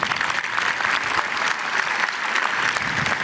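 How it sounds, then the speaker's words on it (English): A 2024 high school graduation audience claps in a dense, sustained round of applause, loud and even throughout with no talking over it. "Big round of applause."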